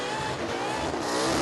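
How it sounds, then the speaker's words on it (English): A well-known burnout car at the Summernats Burnout Masters in Western Australia screams at high revs with tyres spinning, a loud, continuous, raw engine roar that holds for the full moment without a break. "Big revs, big tyre speed."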